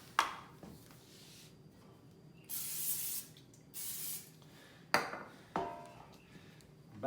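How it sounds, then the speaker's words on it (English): Cooking spray hisses onto a loaf pan in a home kitchen during bread making, in two pairs of short bursts lasting about a second each, close and fairly loud against a quiet room. "now I'm gonna put some grease on my pan"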